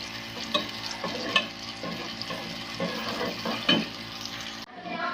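Onions browning in a pan for a potato and pea curry, a steady sizzle with periodic stirring scrapes, fairly close, with no talking.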